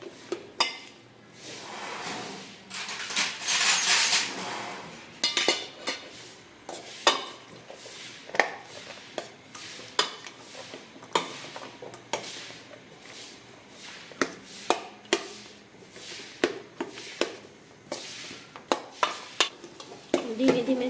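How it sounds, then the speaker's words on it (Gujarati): Food roasting in a pan on a village kitchen stove, with repeated scraping strokes of a spoon against the pan and a steady sizzle running throughout, close and fairly loud. "શેકવાનું શરૂ કરી દઈએ."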